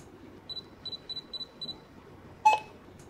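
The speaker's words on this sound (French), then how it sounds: "tant que je n'entends pas de bip, je continue de tourner" A Stellar Trek GPS device for blind users scans a boxed tea package. A string of short, high electronic beeps in quick pairs ends in one louder, sharper confirmation bleep, with no talking.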